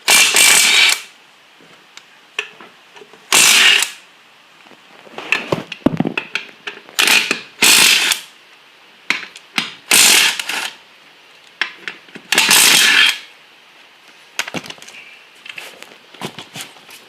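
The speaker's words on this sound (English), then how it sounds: "we're also going to pull the wheels off here." A ratchet wrench removes a wheel from a Sears Suburban GT19.9 garden tractor, with repeated loud close bursts of rapid clicking separated by short pauses and lighter handling clatter.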